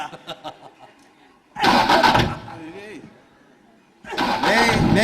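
A voice imitates a scooter engine starting, sputtering in two loud, rough bursts separated by a short pause, close to the listener.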